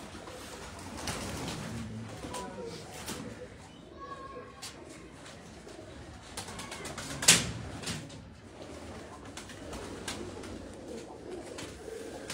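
Champion Shahi pigeons coo softly in a loft, low rolling calls under ongoing conversation between men, with a sharp knock partway through.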